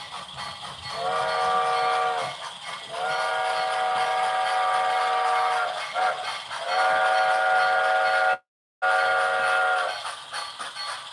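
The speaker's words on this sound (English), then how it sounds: "The whistle on this locomotive clips sometimes." Bachmann model locomotive with a Rio Grande five-chime whistle, sounding several long harmonic blasts separated by short breaks, harsh and distorted from clipping, with one abrupt dropout near the end.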